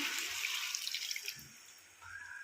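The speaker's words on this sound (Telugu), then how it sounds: "గ్లాస్ అయితే వాటర్ వేసుకున్నాం" A glass of water is poured into a pan of frying chicken, giving a brief splashing rush and hiss that fades and then swells again softly.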